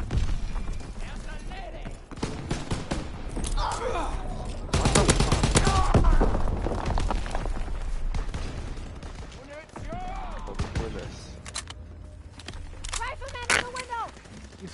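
Rapid gunfire bursts and heavy grenade-like explosions from a Call of Duty video game, loud and dense, with a big blast midway and more firing after, while players talk over the action.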